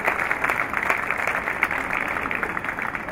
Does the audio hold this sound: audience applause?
yes